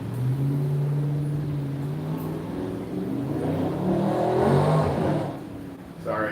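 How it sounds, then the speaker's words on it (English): A car engine revs and accelerates in the distance, a rising drone swelling then fading, with faint background noise. "Some car decided to go fast and rev its engine."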